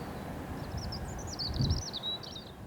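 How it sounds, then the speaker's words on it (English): A faint, thin birdsong warbles over a steady low rush of wind in an open outdoor setting. "All you can hear now is the wind and the birds singing."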